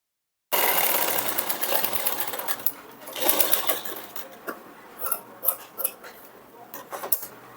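A sewing machine stitches a lining strip onto a princess-cut blouse, starting abruptly with a fast steady whirring run, then slowing into uneven bursts and separate clacks, close and alone.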